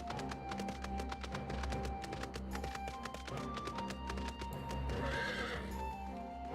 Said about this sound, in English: Yeah, I think that's probably the prettiest horse mount that I have.